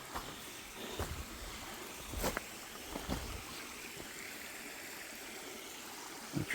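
Stream water flows steadily in a quiet outdoor setting after rain, a faint continuous babble with a few soft knocks and splashes scattered through it.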